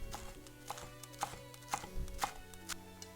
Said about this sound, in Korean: 청상추를요 돌돌 말아가지고 아주 얇게 썰어주세요